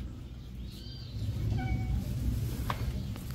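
A toothless domestic cat meows a few times at home, short mid-pitched calls over a steady low background hum, fairly close.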